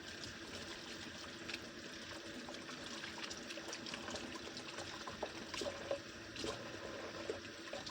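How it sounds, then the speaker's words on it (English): Tap water runs steadily from a kitchen faucet while hands are washed during meatloaf preparation, a continuous close hiss and trickle with no talking. "let me wash my hands real quick"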